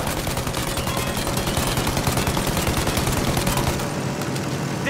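Loud, continuous gunfire at a plane in Mafia I Definitive Edition, with rapid repeated shots hammering in a fast, even rhythm for the whole stretch and a low engine rumble underneath.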